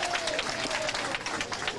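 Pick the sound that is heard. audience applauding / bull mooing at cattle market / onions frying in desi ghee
audience applauding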